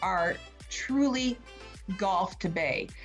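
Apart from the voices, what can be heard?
No everyday noise stands out behind the speech.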